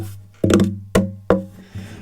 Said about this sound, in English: if I bring this microphone I have right here really close to my guitar, I can achieve very deep sound like this.